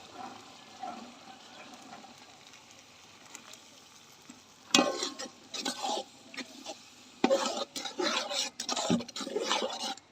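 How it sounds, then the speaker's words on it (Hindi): White chickpeas tipped into cooking masala in a pot make a soft low hiss at first, then bursts of sizzling and scraping stirring, close and uneven, with a few short clatters. "इसमें हम चने डाल लेंगे।"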